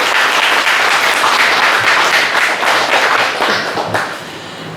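Audience at a film production launch ceremony claps loudly to welcome a pastor, a close, full burst of many hands applauding steadily before tapering slightly at the end.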